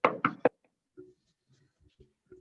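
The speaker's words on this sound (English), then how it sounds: "You better knock on some wood" Three quick, firm knocks on wood land close by, followed by a few soft, scattered taps in near silence.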